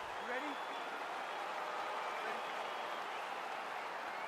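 Crowd noise fills the arena in the UFC 4 video game as Thiago Santos and Aleksandar Rakic's fight begins, with a steady, dense cheering roar throughout and a commentator's voice over it.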